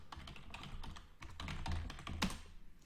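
Keys clatter on a computer keyboard in a quick, uneven burst of close, quiet typing that pauses briefly and then continues, with no talk over it.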